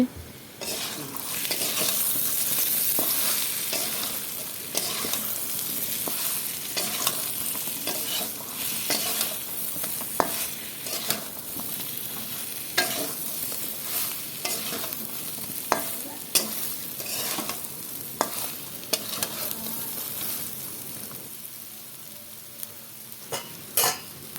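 Raw banana and potato pieces fry in oil in a covered pan, a steady close sizzle broken by frequent scraping and clinking stirs, with no talk.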